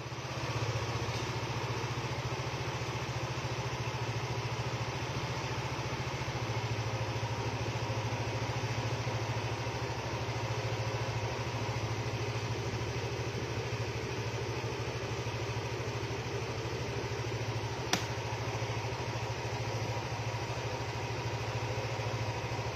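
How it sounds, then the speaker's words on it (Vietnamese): A Yamaha scooter engine idles just after starting, a steady, even low hum that holds at a constant level, with one brief click toward the end and no talking. "rồi chúng ta nổ máy này"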